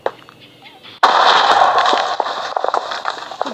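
A sudden loud Minecraft TNT blast breaks a quiet stretch and then rumbles on with crackling debris and smaller pops, the dense roar slowly thinning out.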